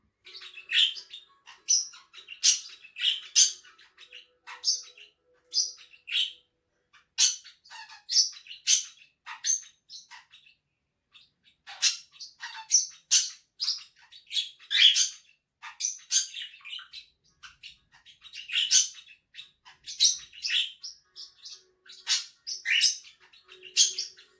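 Pet birds chirping and squawking indoors in a bird room, bright rapid tweets in clustered bursts separated by short quiet gaps, close and clear with no talk.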